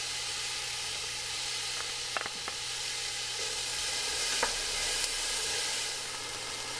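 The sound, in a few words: onions and garlic sizzling in heated oil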